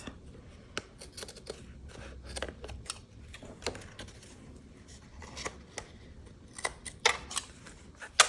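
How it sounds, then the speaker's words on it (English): Scissors make quick, crisp snips through card-making paper pieces, a scattered series of close, faint cuts with small pauses between them in a quiet room. "I'm gonna snip these pieces off"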